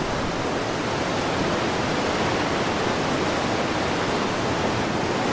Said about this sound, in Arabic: يهبط 30 مليون جالون من المياه عن ارتفاع حوالي 200 قدم فوق هذه الشلالات كل دقيقة